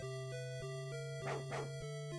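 Chiptune dog bark from the Dragon Warrior (Dragon Quest) game at Maidenhall Castle: two short electronic yaps in quick succession over steady looping background game music, no talking.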